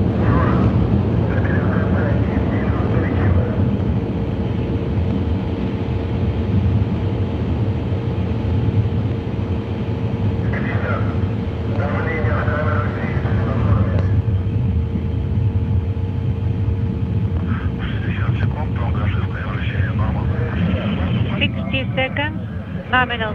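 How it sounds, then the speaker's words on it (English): A Soyuz TMA-10M launch, with four boosters and a single core engine burning liquid fuel, giving a continuous deep roaring rumble in flight throughout while a commentator talks over it. "The Soyuz delivering 102 tons of thrust from its four boosters and single engine."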